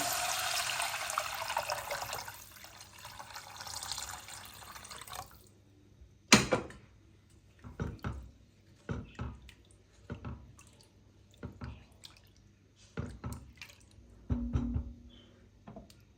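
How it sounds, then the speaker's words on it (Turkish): Water pours from a container into a pot of flour soup with mashed tomato paste for several seconds, a steady splashing rush, followed by scattered drips, clinks and stirring sounds. "Salçamı da iyice ezdikten sonra suyunu ekliyorum."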